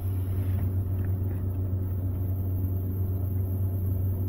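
A Sub-Zero 424 wine cooler runs with a steady low hum and a faint, even hiss of freon flowing through the evaporator, close up and constant, with no talking.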